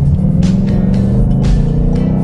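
A NASCAR Mustang race car engine rumbles steadily and loud throughout, with a few brief rises in pitch like light revving, and no voices.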